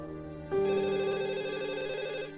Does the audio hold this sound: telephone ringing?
yes